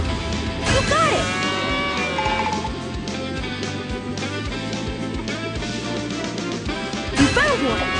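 Cartoon cow moos in the PAW Patrol Rescue World video game, sounding over busy game music and effects, with a brief louder burst near the end.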